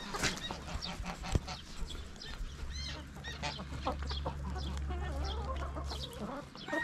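A broody hen with her newly hatched chicks in a backyard coop: steady low clucking mixed with the chicks' high, rapid peeping, all fairly close and continuous.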